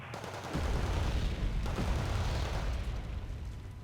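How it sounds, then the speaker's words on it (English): An aircraft gun run strafes in Wargame Red Dragon, a sustained roaring burst of cannon fire with explosions. It is loud, dense and continuous from start to finish. "Try a gun run on this one, and hopefully we kill this guy."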